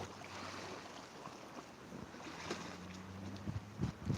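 Wind-driven choppy lake water laps softly against the shore beside a steady low gusting rumble, with faint irregular splashes growing a little louder toward the end.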